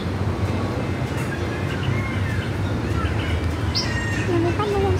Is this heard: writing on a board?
no